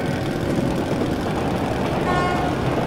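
A steady, low train engine rumble in the video game Metro: Last Light Redux fills the scene continuously, with a faint tonal whine joining near the end.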